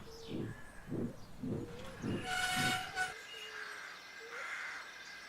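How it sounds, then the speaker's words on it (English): A logging locomotive arrives with a train rumble, then drawn-out whistle tones ring out over the moving train for a few seconds. "A few days later, Lilly arrived with the logging locos crews and the logging station workmen."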